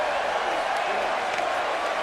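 A wrestling crowd at an AWL event cheers and whoops steadily for Quackenbush, a dense, continuous roar of many voices with scattered shouts throughout.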